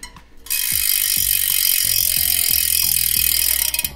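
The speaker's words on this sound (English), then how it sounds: "we have to do a quick free hub sound test here." Elite Drive 45D bicycle wheel freehub spinning, a loud, rapid ratchet buzz of clicks heard close up, starting abruptly after a quiet moment and running steadily to the end.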